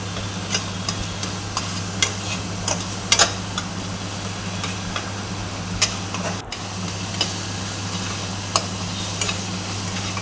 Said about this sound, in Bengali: এভাবে দেখুন ভালো করে নাড়াচাড়া করে কষিয়ে নিতে হবে।